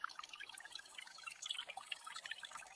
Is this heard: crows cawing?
no